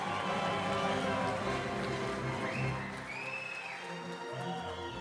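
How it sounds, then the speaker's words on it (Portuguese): A crowd applauds and cheers for the champions of an elderly women's blood-pressure contest, a dense continuous wash of clapping that eases slightly toward the end, with voices mixed in. "Palmas para essas campeãs maravilhosas!"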